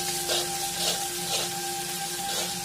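Ginger garlic paste frying with onions in a pan for white pulao, a steady close sizzle broken by rhythmic stirring scrapes about every half second.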